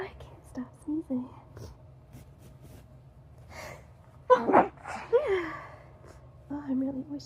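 A close, sharp sneeze bursts out after a series of soft gasps and whispered breathing, followed by a moan and further heavy breaths.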